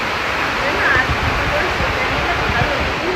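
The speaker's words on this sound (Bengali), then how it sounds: "কিরকম জলটা পড়ছে" Water pours steadily at a stream or waterfall in Darjeeling, a loud, dense, unbroken rush close by, with voices faintly present under the roar.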